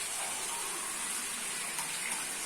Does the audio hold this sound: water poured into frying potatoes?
yes